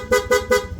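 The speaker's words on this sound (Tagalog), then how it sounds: "magpapalit PIA horn" A PIA horn fitted to a Yamaha Aerox V2 scooter sounds three short, loud, evenly spaced honks in quick succession, close and clear with no talk over them.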